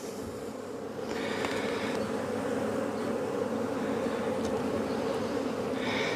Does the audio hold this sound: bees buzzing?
yes